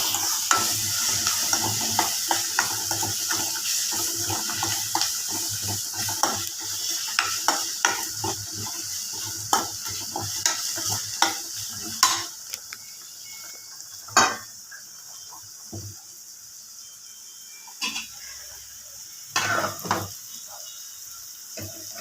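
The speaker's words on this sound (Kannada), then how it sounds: "ಇದು ಸ್ವಲ್ಪ ಎಣ್ಣೆಯಲ್ಲಿ ಫ್ರೈ ಆಗಲಿ." Tomato sizzles and fries in oil with turmeric and salt for a beetroot dish, while a spoon stirs and scrapes the pan in frequent close clicks and taps over the continuous hiss.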